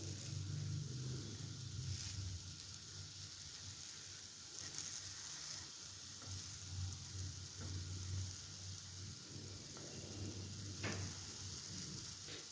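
Ragi sweet paddu sizzle steadily in a pan over a low flame, a soft continuous frying hiss with faint crackles and occasional light clicks, close and alone without talk.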